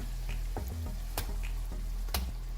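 Minced chicken keema tipped into a hot pan of softened tomatoes sizzles and crackles steadily up close, with a few sharp clinks and scraping stirs breaking through the frying hiss.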